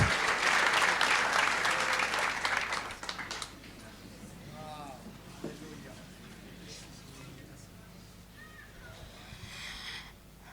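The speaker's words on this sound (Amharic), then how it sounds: "አጨብጭቡ ለጌታ" A church congregation claps for the Lord in a loud, busy burst that lasts about three seconds, then breaks off abruptly, leaving a quiet room with faint voices and scattered small sounds.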